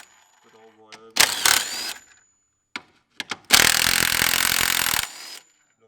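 Loud buzzing bursts of a power tool spinning off the top mount bolts during a lowering spring fit, two main runs of roughly one and one and a half seconds with brief clicks between, after a short spoken line.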